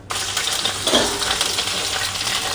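Onion and tomato frying in a little oil, a close, steady sizzle with faint stirring scrapes, continuous and fairly quiet.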